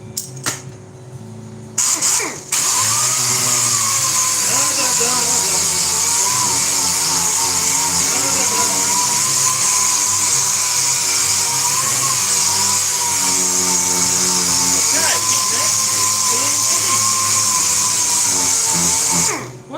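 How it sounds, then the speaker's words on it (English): An air sander works on wood for a screwless saw horse, a loud steady whine with a bright high hiss that runs continuously after a brief start, close by, with no talk. "Nice things about the air sander"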